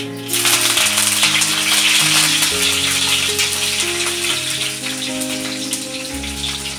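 Curry leaves dropped into hot oil with cumin and mustard seeds, cooking okra with dal, give a loud, steady crackling sizzle throughout, dense and close, with no talk.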